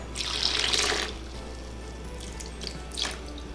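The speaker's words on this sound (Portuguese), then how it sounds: "Então primeiro eu vou colocar aqui o açúcar e 2/3 da água." Water pouring from a kitchen tap onto sugar in a bowl while making panettone dough, a steady splashing rush that fades after a second into quiet trickling, with a brief second splash near the end.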